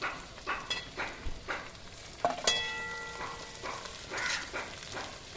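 Capsicum and purple cabbage being stir-fried for egg chowmein: soft sizzling under rhythmic scraping strokes, with one ringing metallic clink of the utensil against the pan midway.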